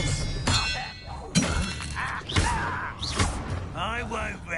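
Expelliarmus spell cast in the video game Hogwarts Legacy, heard as a few sharp, shattering impact bursts spaced about a second apart, mixed with combat noise and voices.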